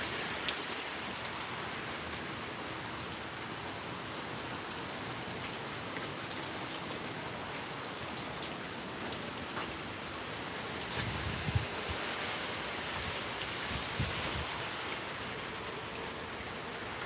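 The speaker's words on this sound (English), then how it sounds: "Once the rain calms down to a drizzle, I'm going to head on out to do some more filming." Heavy tropical rain pours steadily during a thunderstorm, a dense, even hiss of drops on surfaces lasting throughout, with faint low rumbles of thunder midway and no voices.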